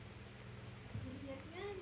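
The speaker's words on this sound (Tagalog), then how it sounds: "Kuliglig! Yun. Nakapaliglig. Yun, kuliglig." Crickets chirp in a steady, faint, high drone behind murmured voices during a tongits card game, with a low hum underneath throughout.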